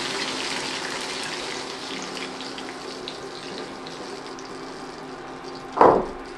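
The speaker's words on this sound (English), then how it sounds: "So I have 2 cans of canned peaches, and I'm gonna just add those right into here." Two cans of peaches in syrup poured into a pan of browned butter, a soft wet splash and gurgle near the end over a quiet hissing background.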